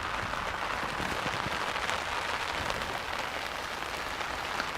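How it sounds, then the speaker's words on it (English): Heavy rain pours down on a coarse fishing spot at Stalham staithe in a thunderstorm, a loud, continuous hiss and patter of drops close by with no break and no voices. "but the rain's not holding off"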